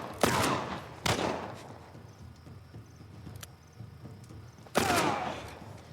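Gunfire in The Last of Us Part I on Grounded difficulty during the escape from the city: three sharp, loud shots spaced apart, each with a decaying tail, over a quiet background with faint ticking.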